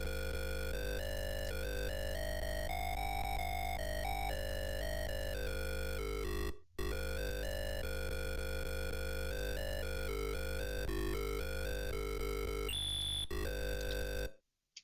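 ZX Spectrum beeper music from the 1984 game World Cup Football by Artic, a fast, buzzy square-wave tune looping continuously, briefly cutting out once before resuming and ending abruptly, with no voices over it.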